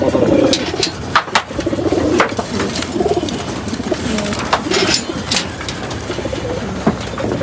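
Pigeons, mostly males kept in a loft and being vaccinated, coo in soft repeated low rolls over a dense background of bird chatter, steady and fairly close throughout.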